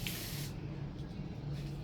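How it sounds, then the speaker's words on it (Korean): A spray bottle gives one short hissing burst of liquid nutrient onto succulent leaves on a balcony, close and fairly soft, followed by quiet room noise. "이런 그 영양제는 저는 잎에다가 스프레이로 뿌리는 형식으로 제가 주고 있습니다"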